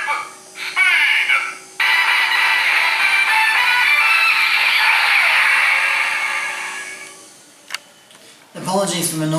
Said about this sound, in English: apologies for the noise the spin motor makes on this belt to make the LEDs move